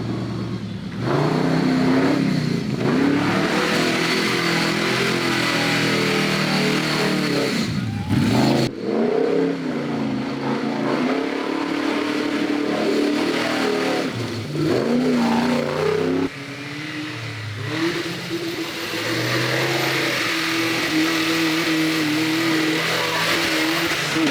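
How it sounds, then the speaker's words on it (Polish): A loud off-road vehicle engine revs and roars continuously in mountain terrain in Romania, pitch rising and falling through gear changes, with a brief dip midway before climbing again. "No i oczywiście dźwięk silnika."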